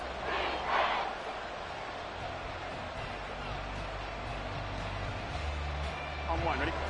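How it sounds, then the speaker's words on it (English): A football stadium crowd at an NFL game between the Texans and Bengals keeps up a loud, steady roar, with a commentator talking over it. "this crowd doing their best to make a lot of racket"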